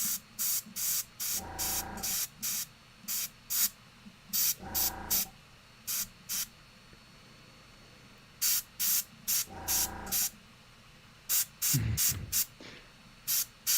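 An airbrush spraying paint onto Warhammer 40k miniatures gives short hissing bursts of air, some clipped and some longer, in an irregular stop-start pattern close by.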